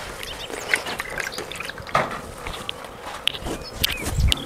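Cleaned small rohu fish are washed by hand in water, with light splashes, drips and wet handling sounds at close range, irregular and fairly soft.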